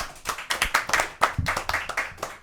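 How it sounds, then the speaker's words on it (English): Small group of people clapping for a guest in a podcast studio, a brisk run of close, dry claps lasting a couple of seconds with no voices over it. "Round of applause for Swagger, everyone."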